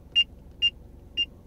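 Three short, sharp electronic beeps from a Mobileye 560 collision avoidance system in a vehicle, evenly spaced and fairly loud over a low engine hum.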